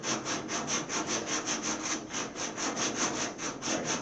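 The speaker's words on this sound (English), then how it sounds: "if I use this little piece of sandpaper here," A small piece of sandpaper scrubs back and forth in a quick, steady rhythm, a close raspy rubbing that repeats with no pause, working on a 1929 Chrysler belt line.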